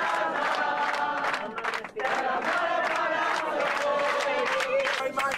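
Basketball fans chanting in unison aboard a bus, a loud, dense group of voices with rhythmic shouts and a brief dip in the middle before the chant resumes.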